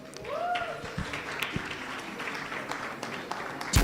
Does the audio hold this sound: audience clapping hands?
yes